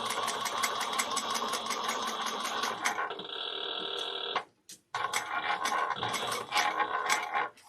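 A sewing machine top stitches a bag in quick rattling bursts, pausing briefly and then resuming its rapid mechanical chatter, with no speech.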